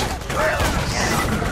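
Rapid gunfire from the video game Borderlands 2 rattles in a dense, continuous burst over busy game noise, with a voice underneath.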